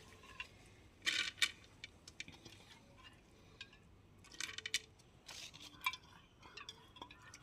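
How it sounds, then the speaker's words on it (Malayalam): Washed sambar dal (lentils) tipped into a cooking pot, giving scattered soft clinks, taps and rattling bursts of grains against the vessel, fairly quiet and close, with no talk. "കഴുകി വൃത്തിയാക്കി വൃത്തിയാക്കി വെച്ചിരിക്കുന്ന സാമ്പാർ പരിപ്പ് ഈ ചട്ടിയിലോട്ട് ഇട്ട് കൊടുക്കാം"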